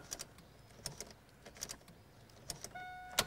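A car's alarm gives a short electronic bleep to confirm remote key programming, a single clear tone near the end after a few faint clicks and knocks, close and quiet with no talking.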